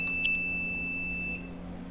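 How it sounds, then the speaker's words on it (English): An alarm buzzer on an Arduino IoT home automation project sounds a loud, steady, shrill electronic tone for over a second, then stops abruptly, leaving quiet electrical hum. "if you want to off this alarm, you can off this by pressing this button"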